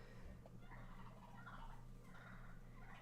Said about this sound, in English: those turkeys are like chirping and chittering in the background.